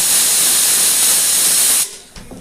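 A pressure cooker whistle lets out a loud, steady hiss of escaping steam for nearly two seconds, then stops sharply, leaving a faint clunk and quieter background.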